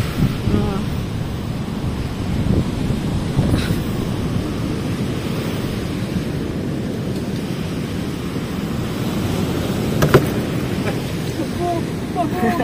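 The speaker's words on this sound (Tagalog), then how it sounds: "Medyo malakas din yung ulan." Heavy rain pours down during an outdoor pig roast, a dense, steady wash of noise throughout with low rumbles beneath and a couple of brief knocks, and faint voices mixed in.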